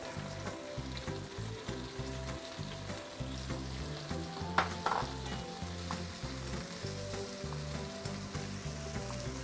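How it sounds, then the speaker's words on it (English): Continuous crackling sizzle of julienned red carrot stir-frying in hot oil, with light scraping and stirring sounds throughout and no talking. "Now we can actually start stir frying some julienne red carrot."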